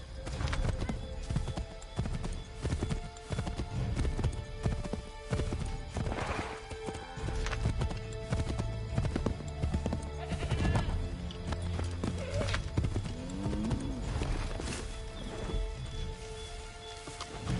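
Galloping horse hooves from Assassin's Creed 3 pound in a steady, fast clip-clop rhythm, close and continuous, mixed with game music and ambient noise, with brief animal calls.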